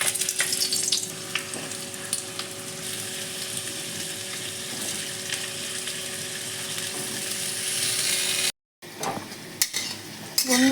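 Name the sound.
potatoes frying in hot oil in a wok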